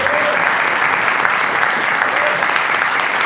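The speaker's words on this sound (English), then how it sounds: "a big second round of applause for Ben" Loud, close, continuous applause from an audience at an evening interview event, a thick, even roar of clapping with no pauses.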